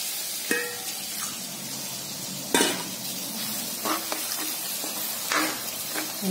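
A curry with added water, made with tomato and onion, simmers in a pan with a continuous bubbling hiss. Occasional louder stirring scrapes and pops stand out against it, and no one speaks.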